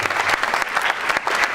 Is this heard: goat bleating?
no